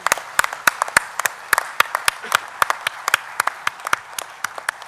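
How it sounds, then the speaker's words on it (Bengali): Audience clapping for award-winning writers at the opening ceremony of the Amar Ekushey Book Fair, with sharp, irregular claps that stay at a steady level throughout. "যারা পুরস্কার পেলেন তাদের জন্য জোরে আমরা একটা হাততালি দিই"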